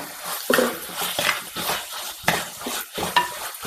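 A spoon stirs kovakka curry in a pan, scraping and clinking against the metal in uneven strokes over a soft sizzle, close and fairly loud, with no talking.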